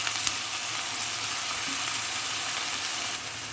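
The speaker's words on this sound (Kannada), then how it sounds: "ಸಿಂಪಲ್ಲಾಗಿ ಒಗ್ಗರಣೆ ಕೊಟ್ಬಿಟ್ಟು ಚಿಕ್ಕದಾಗಿ ಈ ಥರ ಆಲೂನ ಕಟ್ ಮಾಡಿಬಿಟ್ಟು ಒಗ್ಗರಣೆಯಲ್ಲಿ ಹಾಕಿ ಕುಕ್ ಮಾಡ್ಕೊತೀನಿ" Small-cut raw potatoes frying in a simple oil tempering for potato palya dosa stuffing, giving a continuous close, even sizzle with faint stirring and no voices.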